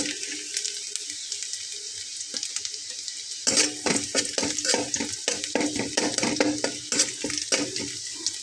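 Garlic cloves dropped into hot oil in a karahi, a sudden loud sizzle followed by repeated rhythmic stirring scrapes, close and alone.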